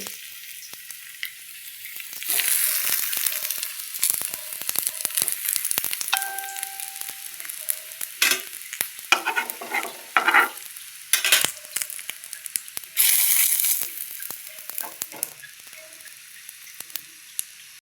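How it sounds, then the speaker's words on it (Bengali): Pieces of catla fish omelette fry in a small amount of oil, giving a steady sizzle with louder crackling bursts and a few light metallic taps from a pan or utensil. "বাকিগুলো এই যেগুলো সব এইভাবেই ভেজে নিতে হবে। তেল অল্পই থাকবে"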